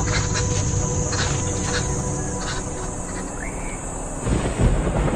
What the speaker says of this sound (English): at long last, distant thunder signals a welcome transformation